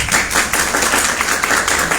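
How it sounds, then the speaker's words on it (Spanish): Dense applause from an audience at a panel discussion, many hands clapping loudly and steadily throughout, close and continuous. "Un fuerte aplauso, por favor."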